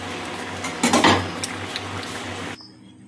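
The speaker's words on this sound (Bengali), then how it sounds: "আর এখানে আমি রান্না করছি মাংস কষা, আলুও তার সাথে একসাথে দিয়ে দিয়েছি" Meat and potatoes being stirred together in a pot while browning in spices, with a burst of metal scraping and clinks near the middle over a steady cooking hum that drops away at the end.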